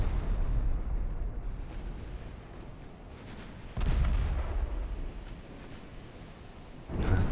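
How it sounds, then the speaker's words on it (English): Naval gunfire and shell explosions in Ultimate Admiral Dreadnoughts, warships trading main-gun salvos in battle: a continuous loud roar of distant booms with a heavier blast near the middle and another at the end, no talk. "So now Potentia, and that might be a kill shot on the battleship"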